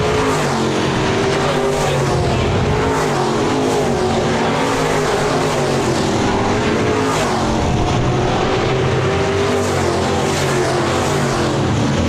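SportMod race cars roaring around the dirt track at Park Jefferson Speedway, a loud continuous engine drone from a pack of cars that swells and fades slightly as they pass, with no speech over it.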